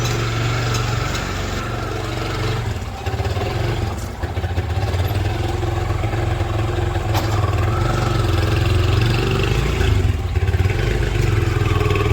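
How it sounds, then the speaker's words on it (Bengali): An auto rickshaw engine runs loud and close, a continuous throbbing mid-pitched putter that holds steady throughout, with no voices over it. "অটো চলে এসছে"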